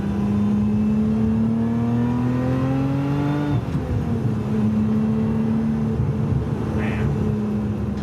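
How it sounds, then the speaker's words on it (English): A supercharged Lotus Emira engine revs hard and close, its pitch climbing steadily under a high supercharger whine. It then drops and settles into a loud, even drone. "You have the supercharger whine that you can hear"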